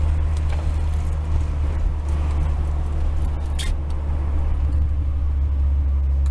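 A Honda Prelude cruising with windows down, steady low engine and road rumble, a constant wash of wind noise over it, loud and continuous throughout.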